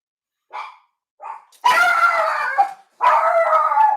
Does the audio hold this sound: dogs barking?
yes